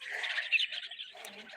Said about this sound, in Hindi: तो यहाँ पे बुलबुल चहक रही है।